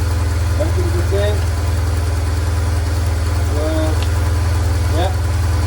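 BMW R1100 RT motorcycle engine idling steadily at operating temperature, a constant low throbbing hum throughout with faint speech-like sounds over it.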